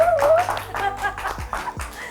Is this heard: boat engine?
no